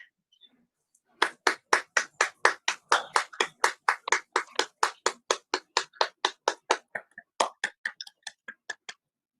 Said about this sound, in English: let's give a big, big clap to the event